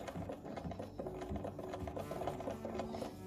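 A vintage Australian-made SAF Pinnock sewing machine runs steadily, its needle clattering in a fast, even rhythm, close and moderately quiet, with no talking.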